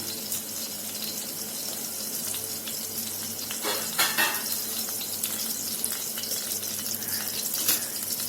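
Steady, crackling sizzle of green chillies frying in hot oil, close and continuous, with occasional sharper pops and stirring sounds.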